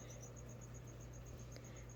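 Tiny feeder crickets chirp in a newly set up enclosure, a steady high, thin pulsing trill repeating evenly throughout beneath a constant low hum, faint and close.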